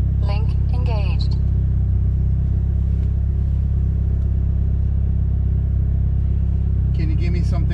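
A Mitsubishi Evo 8 with 12,000 original miles, driven on the road: a constant deep, loud engine rumble fills the cabin throughout, with brief faint chirps and clicks near the start and end.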